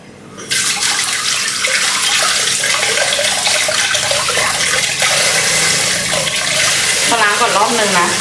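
Potatoes being washed under a running kitchen tap, a loud steady rush of water starting after a brief quiet moment and continuing throughout, with some splashing toward the end.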